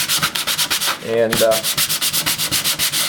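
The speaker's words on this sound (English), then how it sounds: "In this case, I think hand sanding is just fine." Hand sanding of a wood veneer surface makes rapid, rhythmic back-and-forth scratchy strokes, close and steady, briefly broken by a short spoken word mid-way.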